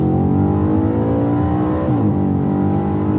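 An Audi RS4 B8 accelerating hard, its engine note loud and close, revs climbing steadily before a brief dip and shift around the middle, then pulling again.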